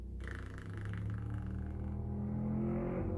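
A car passes by outside, a low engine drone and road hum swelling gradually in loudness, moderately distant and steady with no talk.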